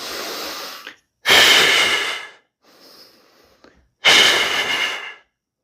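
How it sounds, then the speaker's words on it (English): Deep belly breathing between kettlebell swing sets, with a long loud exhale, a softer intake, then another full audible exhale, close up and with no talking. "deep breath into your belly, and full exhale of the breath"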